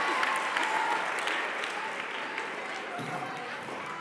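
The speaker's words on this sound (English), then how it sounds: "Give her a round of applause." Broad, steady applause from a large audience fills the clip, with crowd noise and some voices mixed in, gradually tapering slightly toward the end.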